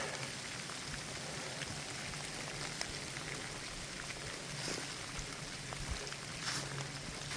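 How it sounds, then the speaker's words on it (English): Autumn rain falls steadily along a back country lane, a soft, even hiss of drops with occasional louder patters close by and no talking. "And the fall rains are here."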